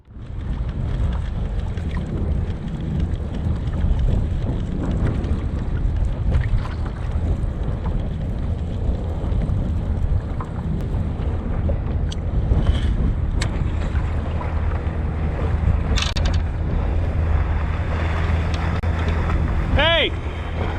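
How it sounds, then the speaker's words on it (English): A fishing boat speeds toward a kayak on open water, its engine a steady near roar over wind buffeting the microphone and water rushing past throughout. "he suddenly noticed another fishing boat moving at an alarming speed"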